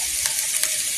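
Carrots and other vegetables hit a pan with garlic and onion and fry there, giving a brief, soft, steady sizzle with faint crackles.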